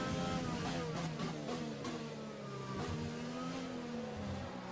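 A Formula 1 car in the F1 2020 racing game revs hard and shifts through gears, its high engine note climbing and dropping repeatedly, loud and close throughout.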